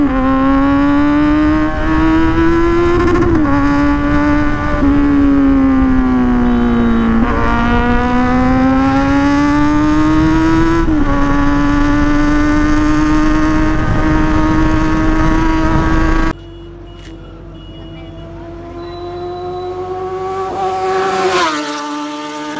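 A Kawasaki Z900 BS6 motorcycle with a full system exhaust accelerates hard through the gears, a loud steady engine roar climbing in pitch, dipping at each shift, then dropping away before rising again.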